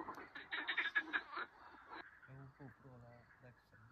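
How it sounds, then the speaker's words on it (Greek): Frogs croak at night after the wind has dropped, a steady pulsing chorus of repeated calls in the second half, preceded by nearby talk and rustling. "Να ακούσω λίγο το βατράχια."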